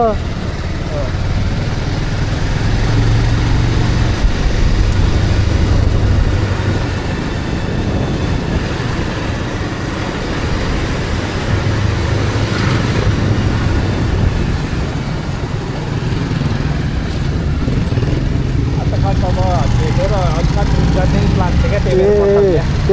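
Scooter engine while riding on a narrow Kathmandu road at night, a steady low drone with road rush running under a man's conversation throughout.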